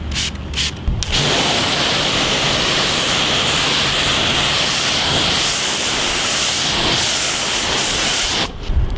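Steady, loud hiss of Meguiar's Hybrid Ceramic Wax misting from a spray bottle onto a car panel, a continuous close spray lasting several seconds, framed by a few short trigger pumps at the start and end.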